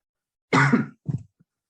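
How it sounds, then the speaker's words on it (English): A single close cough, a rough throat-clearing burst followed by a shorter second cough, then a faint trailing grunt in a quiet room. "I need to cough again"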